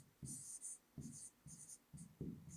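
Writing by hand during a science lesson, with soft, close pen or chalk strokes in short repeated bursts of scratching and tapping.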